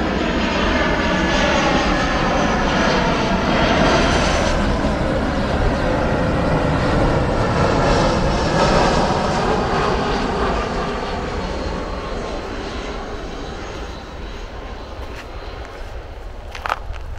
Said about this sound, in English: A plane is coming in to land.